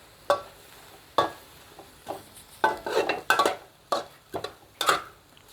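Ginger, sun-dried pork and spring onions stir-frying in a pan, with a string of sharp scraping and clattering strokes of a utensil against metal over a soft sizzle, close and fairly loud, no voices.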